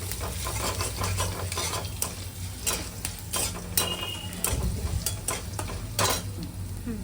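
Bitter gourd stir-fried in oil with mustard seeds, a busy sizzle broken by repeated scraping strokes of a spatula against the pan, close and lively, with no voices.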